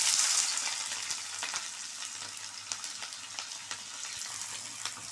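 Garam masala, cinnamon, cloves, cardamom and small onions frying in oil for a dhaba-style mushroom masala, giving a steady close sizzle with occasional soft stirring clicks and pops throughout.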